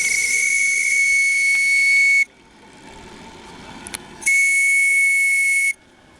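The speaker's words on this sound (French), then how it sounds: "un petit coup de sifflet" A steam whistle on an RC model steam launch gives two loud, steady shrill blasts of about two seconds each, separated by a short pause with quieter water and engine noise between.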